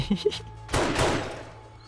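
A remote auto turret fires in the video game 7 Days to Die, with a loud burst of gunfire shots after a few short sounds, fading out behind some talking.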